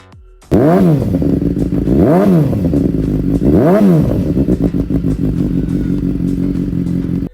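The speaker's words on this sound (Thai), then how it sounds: "มาฟังเสียงเครื่องยนต์กันครับ" A 2017 BMW S1000R motorcycle engine with an aftermarket AR exhaust roars to life close by, revved hard three times in rising and falling sweeps, then settles into a loud, rough idle.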